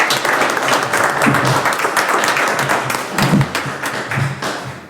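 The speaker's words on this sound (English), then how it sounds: "let's give these guys a big round of applause" A county board of education meeting audience gives a big round of applause, dense, loud clapping from many people that holds steady for about five seconds with no talk over it.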